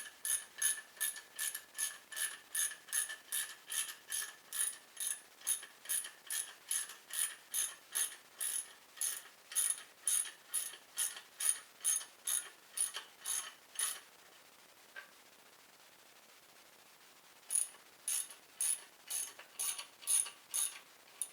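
A ratchet wrench tightening a bolt during cylinder head prep on a 3800 V6 engine, clicking in a long, steady series of evenly spaced strokes, close and crisp, with a brief pause before a final run of clicks.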